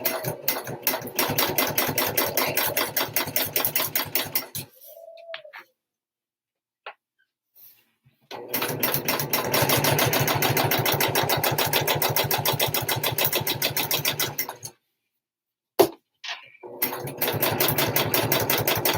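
A sewing machine stitching handbag straps with a worn needle runs in loud, fast, steady bursts, stopping for several seconds midway and then starting up again, with a brief sharp knock near the end.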